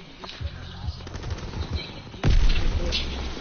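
Gunfire in a World War II video game crackles in rapid bursts, with a louder heavy volley near the end, while players talk over it.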